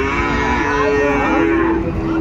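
A Sahiwal bull moos at a busy cattle market in Dinajpur, giving one long, loud, drawn-out low call over the steady crowd noise of the market.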